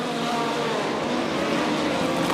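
Race cars on a motorsport track roar past at speed, a steady, dense engine drone holding loud and close throughout the short moment, with no voices.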